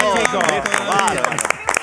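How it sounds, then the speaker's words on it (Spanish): A cooking class group claps and cheers, brisk scattered applause mixed with whoops while several voices talk and shout over it close by. "Un aplauso por lo bien que nos va"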